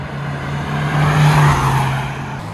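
A Mahindra XUV700 and a Hyundai Creta launch side by side in a drag race with spinning tires, a loud close engine hum swelling and fading with a sustained tire squeal.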